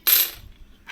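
An old Indian one-rupee coin from the 1940s is set down with a single loud, bright metallic clink that rings briefly. A faint second tick follows just after.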